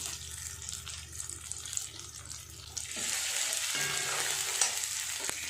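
Spice masala with turmeric is fried and stirred in a pan, a soft sizzle with scraping strokes that turns into a louder, steady hiss partway through, with no speech.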